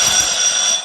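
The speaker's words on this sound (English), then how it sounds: "Let's press our buzzers again." A quiz contestant's buzzer sounds at a school quiz competition semi-final, a loud, steady electronic tone lasting nearly a second before cutting off, with no talk over it.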